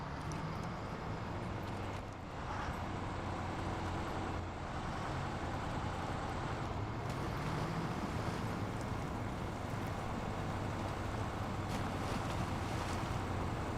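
A Loadstar JBE truck on modded tires in SnowRunner drives in fifth gear through water, giving a continuous rushing wash and low engine rumble that holds steady throughout, with no talking.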